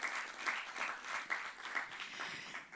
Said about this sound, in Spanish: yo quiero un fuerte aplauso para el doctor Wilfredo Lozano